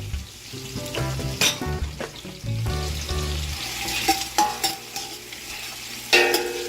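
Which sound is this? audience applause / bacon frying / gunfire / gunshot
bacon frying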